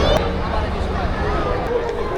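Dense crowd hubbub at a large animal exhibition fair in Bangladesh on a busy holiday, a steady wash of overlapping voices and movement close around, with no single voice standing out.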